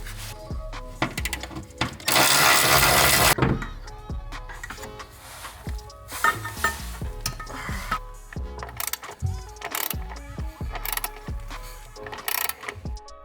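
A wrench works the drive shaft flange bolts on a BMW E92 M3 track car with a carbon fiber drive shaft. Close metallic clicks, ratcheting and clanks come in irregular bursts, with one longer grinding rasp.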